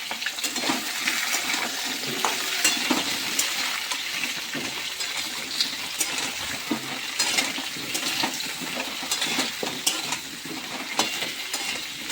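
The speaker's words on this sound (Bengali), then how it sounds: "এখানে আমি বড় বড় করে আলু বনিয়ে রেখেছি আগে তো সেগুলো আমি ভেজে নিচ্ছি" Large chunks of potato fry in hot oil, giving a dense, constant sizzle with scattered pops and scrapes, close and loud with no talking.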